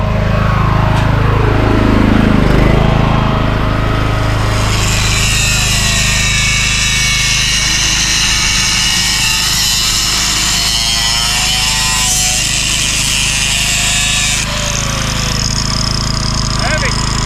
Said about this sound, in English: Straight on the grinder.